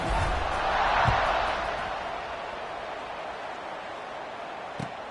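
A college football stadium crowd at a South Dakota State vs Oregon State game murmurs and roars steadily before kickoff, a broad distant wash of noise that swells briefly then settles.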